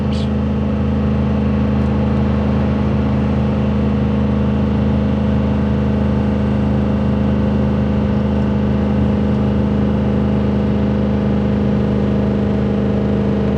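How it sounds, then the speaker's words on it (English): Truck engine holding a steady high-RPM drone while engine braking on a long downhill, loud and continuous with a strong low hum and no talk. "I don't want the engine sitting out there winding up any higher than it's got to"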